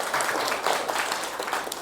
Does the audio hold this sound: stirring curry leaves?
no